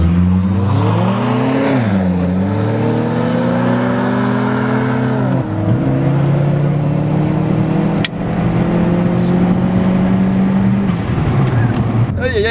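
Dodge Stratus and a Jetta Turbo Stage 2 lined up in a drag race, loud engines revving and shifting through gears up close, with pitch climbing and dropping repeatedly across the run.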